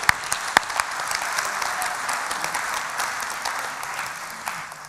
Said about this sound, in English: Give him another clap.